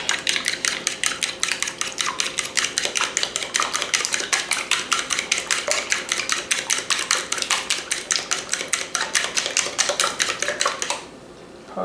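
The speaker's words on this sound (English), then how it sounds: "Beat them eggs." A whisk or fork beats eggs in a bowl for baked mac and cheese, fast even clicking strokes for about eleven seconds, close and alone, then stopping.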